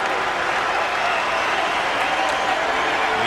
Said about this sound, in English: And this crowd responding to Rafer Alston.